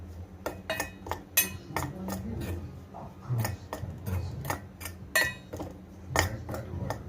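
A spoon clinks and scrapes repeatedly against a bowl while powder is mixed into a herbal decoction for a natural hair dye, sharp rhythmic taps close by.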